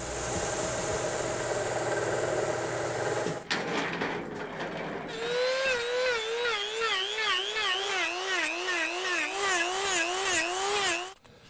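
Sanding a white pine duck decoy block to rough out its body shape: a steady, loud abrasive rasp, a short quieter gap, then a wavering, whining power-tool tone that rises and falls repeatedly until it cuts off.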